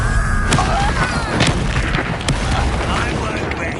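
Booming spell blasts from a Hogwarts Legacy duel, a few sharp bursts under a dense, steady wash of battle noise.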